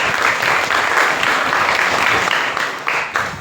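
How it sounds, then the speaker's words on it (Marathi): An audience at a school anniversary and admission-day function applauds the donors of 25 bicycles, a loud, close, continuous burst of many hands clapping with no talk over it. "त्यांच्याबद्दल खरंच टाळ्या वाजवा"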